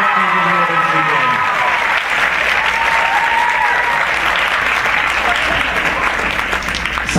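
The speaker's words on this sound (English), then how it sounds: "all of our fine judges deserve one more great big round of applause" Pageant audience applauds the judges, sustained full-room clapping after a host's voice fades at the start, with faint cheering mixed in.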